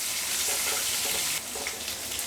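Pieces of teasel gourd, taro and potato fry in hot oil in a pan, a dense continuous sizzle, loud and close, easing slightly partway through, with no voices.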